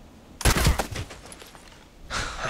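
Bursts of HK417 rifle fire in the online shooter Contract Wars, one rapid volley followed after a short gap by a second burst, close and loud.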